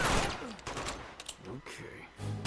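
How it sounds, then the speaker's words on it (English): Gunfire from the video game Uncharted 2, a scattered fusillade of shots and impacts at moderate distance mixed with game ambience, with a voice speaking in between. "Who's shooting me? Stop shooting."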